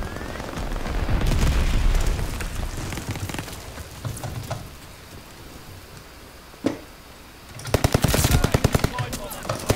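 Loud bursts of rapid automatic gunfire in a video game battle, separated by quieter gaps with a lone shot and a dense closing volley.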